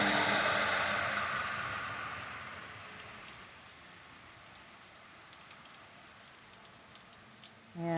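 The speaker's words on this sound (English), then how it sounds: "Beautiful, refreshing rain." Steady rain pouring onto a surface outdoors near farm fields, a dense even hiss that is loudest at the start and eases to a softer, constant patter with scattered drop ticks.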